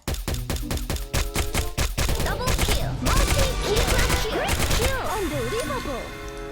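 Nova DRT-6 rifle fire in the online shooter Sudden Attack, a rapid burst of loud sharp shots followed by scattered impacts and clattering effects, with a voice speaking briefly underneath.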